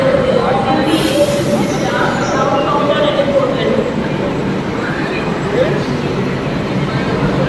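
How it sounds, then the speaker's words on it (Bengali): A metro train pulls into Dakshineswar station in Kolkata, its steady low rumble and rail noise filling the platform throughout, with a brief high hiss near the start and a voice speaking over it. "এটা হচ্ছে দক্ষিণেশ্বর মেট্রো রেল।"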